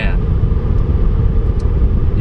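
APR-tuned Volkswagen GTI Mk6 engine roaring hard under acceleration, a loud, steady low rumble with road noise filling the whole stretch, close and continuous with no breaks.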